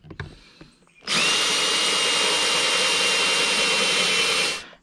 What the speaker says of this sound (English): Drill a hole through there.